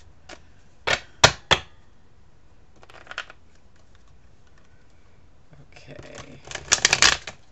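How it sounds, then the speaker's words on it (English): Playing cards riffle-shuffled in several quick bursts, with pauses between, close up; a person briefly speaks near the end. "I'm watching my time clock carefully this time so I won't go over. So Eve, will be thinking about you as I shuffle these cards."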